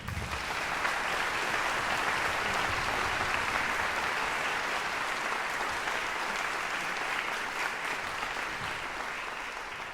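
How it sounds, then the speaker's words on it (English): An audience applauds an orchestra at a Mahler festival concert, a steady dense wash of clapping that holds loud and even throughout. "So a big round of applause for the orchestra."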